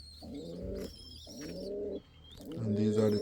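Indian Fantail pigeons coo in three close, throaty bursts with short pauses between them, and faint chirps and other bird sounds sit in the background.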